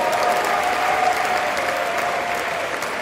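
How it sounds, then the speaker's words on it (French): A church congregation applauds its bishop at a parish jubilee celebration, a dense, even wash of many hands clapping at once, loud and continuous without pause. "Est-ce que nous pouvons applaudir très fort pour notre Père évêque?"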